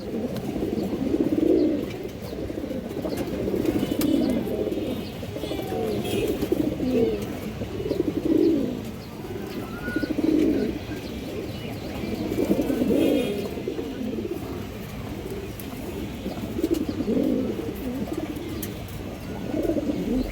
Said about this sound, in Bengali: একটা লাল চুল্লি মাদি কবুতর আছে